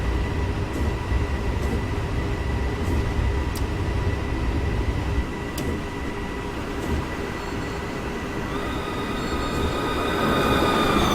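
A BR423 electric commuter train running in Train Simulator 2016 on the Munich–Augsburg line, with a steady rumbling roll, a continuous electric motor whine and sustained tonal hums rising in pitch toward the end, plus a few faint clicks.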